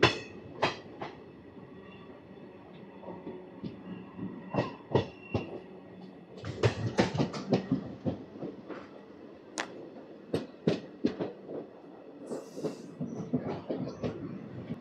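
A DEMU diesel train pulls out of Balepalli railway station, heard from on board as irregular wheel clatters and clunks over the rails with a low rumble and occasional faint squeals.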